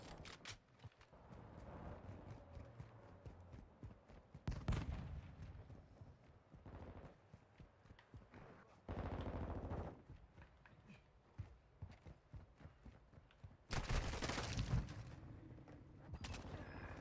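Gunfire in the multiplayer shooter Call of Duty MW3, with loud broadband bursts around 4.5, 9 and 14 seconds over a steady bed of distant shots, scattered clatter and footsteps.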